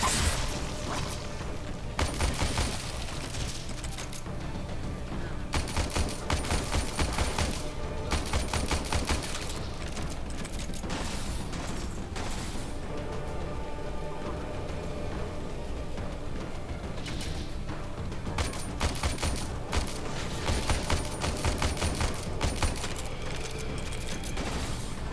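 Enemy shotgun fire in the Warframe space-ninja shooter: repeated sharp blasts come in irregular clusters across a continuous backdrop of game combat noise, loud and close, with almost no talking.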